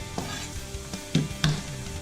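Carrots sizzle in a pan for a slow-cooked beef ragu while a utensil stirs them, giving a steady fry with a few sharper scraping knocks.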